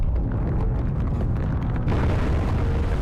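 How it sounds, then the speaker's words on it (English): Cracking ice explosion as the Strato Sentinel spawns in a Halo 3 mod, a loud sustained rumbling blast with crackling texture, heard alone. "that giant cracking ice explosion happens where it comes out of the deadly fog"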